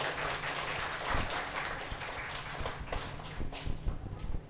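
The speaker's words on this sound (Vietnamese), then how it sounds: "Đề nghị chúng ta cho một tràng pháo tay thật lớn để chương trình chính thức được bắt đầu." An audience claps at a piano recital at a music centre, with dense, fairly faint applause that thins toward the end into scattered claps.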